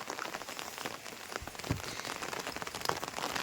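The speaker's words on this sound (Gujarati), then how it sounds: "વરસાદ ચાલુ છે તમે જોઈ શકો છો" Steady rain pattering on a hard surface, a dense close hiss broken by a few louder drips and taps.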